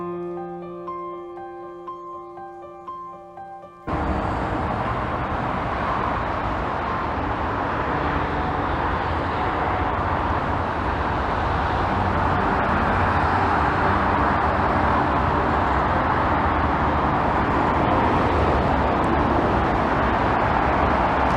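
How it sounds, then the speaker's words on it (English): Motorway traffic on the M50 near Ticknock Road in Dublin rumbles as a constant, broad, low roar that rises in after a few seconds of soft tonal music and then holds steady. "Standing here now, there is a constant rumble of traffic noise from the M50 motorway"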